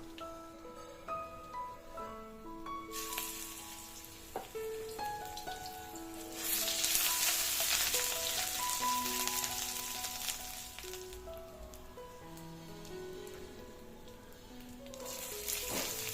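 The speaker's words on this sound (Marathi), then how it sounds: "त्याच्यात आला लसूण पेस्ट घालायची आणि व्यवस्थित ढवळून घ्यायचा" Ginger garlic paste fries with whole spices such as cinnamon, sizzling under tonal background music, with a burst of loud hissing midway as the paste hits the oil and is stirred, then settling to a softer crackle.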